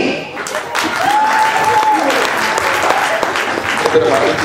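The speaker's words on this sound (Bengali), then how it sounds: "তার জন্য জোরে করতালি" An audience claps for the second runner-up at a BCA Easter 2013 competition program, with steady applause from a crowd at close range while a voice speaks over it.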